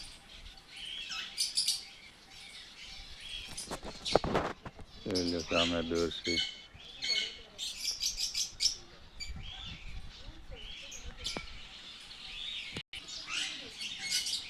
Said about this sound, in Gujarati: મિત્રો આમાં અલગ અલગ જાતિની ઘણી ચકલીઓ રાખેલ છે.